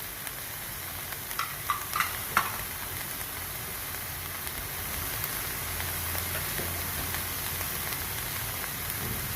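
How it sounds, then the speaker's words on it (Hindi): Chicken being stirred and mixed with black pepper powder, coriander powder and salt in a pan, with a steady sizzle throughout and a few brief scraping clinks near the start; no one speaks. "अच्छी तरह से इनको मिक्स करेंगे।"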